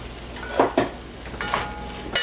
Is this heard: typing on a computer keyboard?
no